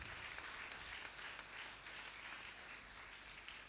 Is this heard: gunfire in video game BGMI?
no